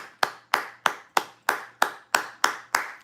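A single pair of hands claps close up in a quick, regular beat, nine crisp claps roughly three per second, with no other sound around them.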